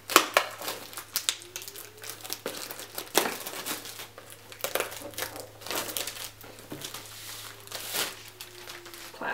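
Plastic wrap being peeled and crinkled off a cardboard box, with irregular close crackling and tearing bursts throughout and a steady low hum underneath.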